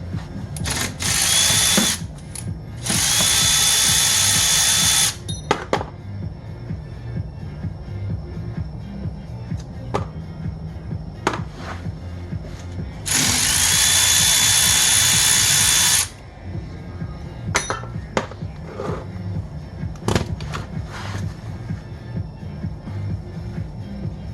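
A power tool spins out 13mm retaining clips on a Duramax rear end, sounding in several loud whirring bursts of a few seconds each, with clinks and handling clatter of parts in the gaps between.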